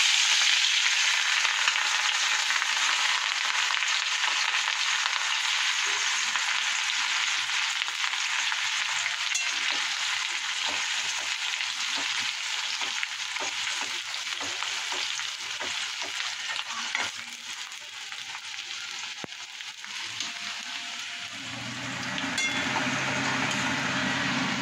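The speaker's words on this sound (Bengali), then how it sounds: "তাহলে আগে ফার্স্টে রসুনটা দিয়ে দেবো।" Chopped garlic frying in hot oil in a wok, a steady bright sizzle and crackle that continues close up for the whole stretch, easing slightly toward the end, with no talking.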